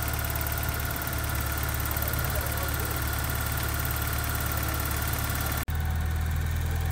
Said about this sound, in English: So I'm gonna let the engine idle up the temperature